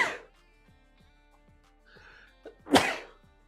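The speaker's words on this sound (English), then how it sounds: "I gotta sneeze, boys." A single loud, close sneeze bursts out near the microphone after a quiet stretch, preceded by a short intake of breath.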